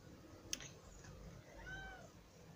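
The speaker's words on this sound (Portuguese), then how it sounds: "o gato acabou de chegar aqui atrapalhando a minha apresentação" A pet cat meowing during an unboxing at home, one short faint meow with a rising and falling tone, close by in a quiet room.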